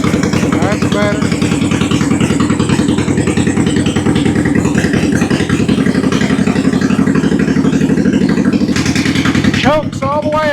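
A Honda VT1100 motorcycle idles loud and close after its idle has been raised, with a steady, throbbing, slightly clattery beat and a brief higher squeal near the end.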